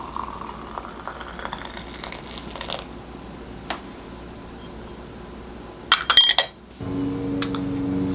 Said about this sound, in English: So for the second steeping, I'm gonna add more boiling water and steep it for 4 minutes.